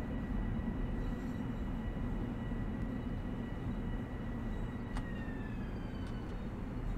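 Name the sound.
train running, from the video game Train Sim World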